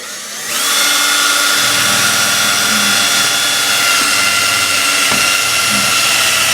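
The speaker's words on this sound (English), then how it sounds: "I'm just going to use my battery drill." A cordless drill whines steadily at close range boring into block wall during window installation, its motor pitch holding high with brief dips and surges, running continuously throughout.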